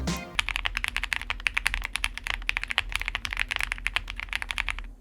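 Typing on a Hope75 custom mechanical keyboard with PE foam gives a fast, steady stream of crisp, close keystroke clacks with a marbly character, heard alone.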